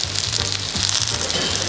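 Sliced vegetables hit smoking hot oil for a stir fry, giving a loud, bright, continuous sizzle and crackle, close up, over a low repeating pulse.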